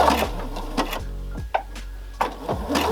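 A domestic sewing machine stitches a seam in reverse and then forward again, its motor whirring in short bursts separated by brief pauses, close and clear with no talk.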